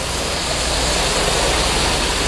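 A pressure washer sprays plain water, no soap, onto a plum tree, producing a loud, constant hissing rush at close range with no breaks.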